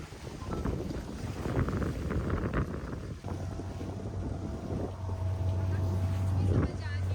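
Boat crossing open sea near North Bay and Ross Island in the Andaman Islands during strong wind, with a steady engine drone, roaring wind buffeting the microphone and water splashing up, continuous and loud throughout.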